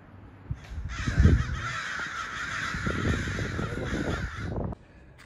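Crows caw from backyard trees, several harsh calls over a steady buzzing drone, fairly close with small thumps and rustles nearby.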